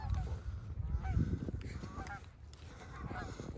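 Geese honking as they fly in over a spread of about two dozen decoys on a hunt, several overlapping calls rising and falling at moderate distance.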